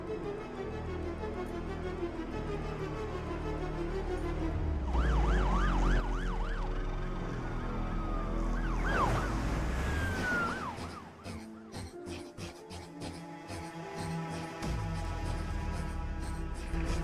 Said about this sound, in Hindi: पुलिस की गाड़ी आ रही है, जल्दी। साइड ले लो।